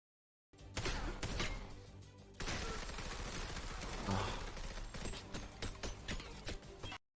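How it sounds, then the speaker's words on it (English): Gunfire from the action film John Wick: Chapter 3 comes as a dense, rapid volley of sharp shots over several seconds. It plays at moderate level after a brief silence. "The bullets are just going bouncing off the guy."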